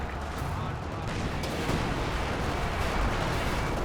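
Dense, continuous rumble of tank cannon fire and explosions in Company of Heroes 2 during a 2v2 match, a Panzer IV and an S-35 trading shots amid steady battle noise, with a commentator talking over it.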